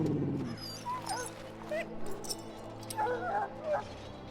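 A dog whimpers and yips in Dragon Age: Origins, with several short high whines spread across the moment over a low steady game ambience.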